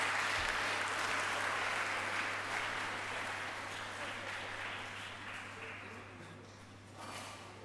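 Ladies and gentlemen at a university English department endowment lecture give the guest speaker a big round of applause, a sustained crowd clapping that slowly thins and fades, with a low steady hum beneath.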